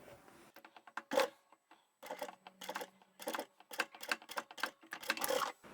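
Quiet, nearby bursts of rapid ticking stitching come from a sewing machine sewing a vinyl tab onto a toiletry bag, with short pauses between runs.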